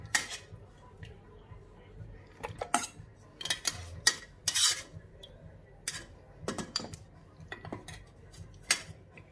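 Metal utensils scrape and clink against a dish while boiled meat is pulled off the bones, giving irregular close-up clatters and scrapes with no talking.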